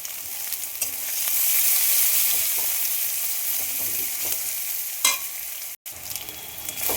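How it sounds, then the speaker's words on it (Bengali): Onions and chopped green chili fry steadily in a pan (kadai) for a Bengali potato curry, a continuous close sizzle with occasional stirring scrapes and a brief sharp clatter near the end. "এবার লাল লাল করে পেঁয়াজটা ভেজে নিয়েছি"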